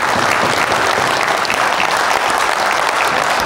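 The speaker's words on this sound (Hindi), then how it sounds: "मैं चाहता हूं इस पॉइंट के लिए मुझे छोटी सी तालियां चाहिए आप लोगों के लिए।" Applause from the audience at a sales seminar, dense and loud clapping that stays even for several seconds with no pause.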